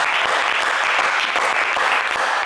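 A studio audience on the French game show Le Coffre Magic applauds contestant Junior with dense, continuous clapping that stays loud and even for the whole stretch.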